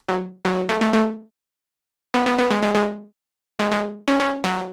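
A dry melodic techno synth lead with no effects plays short plucky notes in clipped phrases, each note decaying quickly into silence between groups.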